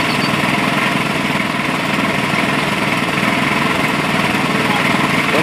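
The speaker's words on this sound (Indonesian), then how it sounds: "Kali ini masih ngebor menggunakan mesin." A small engine-powered rig drills a water borehole, its motor droning loud and unbroken with a fast, even vibrating chug throughout, close by and alone.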